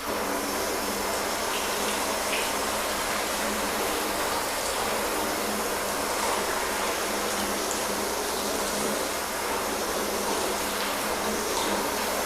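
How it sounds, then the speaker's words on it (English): Garden hose spraying water to rinse off a panel, a steady broadband rush of water running continuously and fairly close throughout. "get our hose and let's rinse that back off again."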